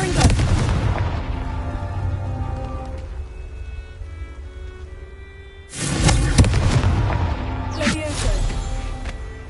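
In Hogwarts Legacy, the Confringo blasting curse sets off booming explosions: a heavy blast with a long rumbling tail, then a second loud burst followed by more crackling impacts, with a spoken spell-call among them.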